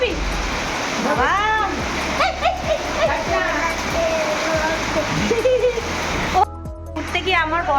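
Water splashes and trickles across the ground after a heavy rainstorm, a steady wet wash with rougher splashes throughout. Voices talk loudly over it for most of the clip.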